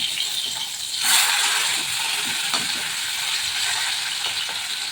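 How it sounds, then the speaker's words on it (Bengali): Fish fried lightly in hot oil in a pan for ilish with brinjal: a steady, loud crackling sizzle runs throughout, with a brief surge about a second in and a few soft taps, no voices. "মাছগুলো খুব কড়া করে ভাজবো না, হালকা করে ভাজবো। এভাবে সবকটা মাছ আমি ভেজে নেবো এপিট ওপিট করে।"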